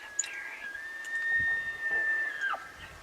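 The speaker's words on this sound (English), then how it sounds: "we can hear the elk bugling, so we know they're starting to get on their feet" An elk bugles at sunset on a hunt, a long high whistling note rising, holding steady and dropping at the end, heard at a distance over quiet outdoor background.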